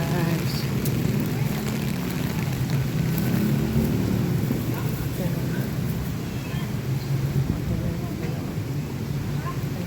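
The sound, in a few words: heavy rain falling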